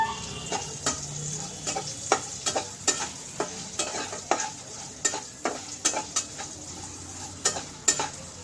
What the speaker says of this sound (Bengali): এবার আমি দেব নারকেল কুচিগুলো। এই তেলেই ভাজবো।